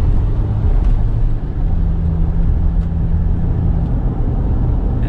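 A Chevrolet Trailblazer Premier's 2.8 turbo diesel engine pulls hard uphill and downhill on a slippery track in 4x2 mode. The loud, continuous low rumble comes from close by and holds steady with a sustained drone throughout.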